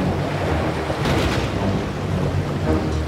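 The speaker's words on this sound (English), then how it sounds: "the waves began to break apart the prince's boat" Dense rumbling surf and rushing water roar continuously as storm waves crash against a boat, a heavy wash with no voices.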